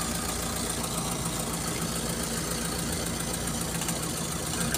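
A T120ss motorcycle engine runs with one spark plug cap pulled off, giving a steady, close, unchanging idle with a rough, knocking texture and no talk.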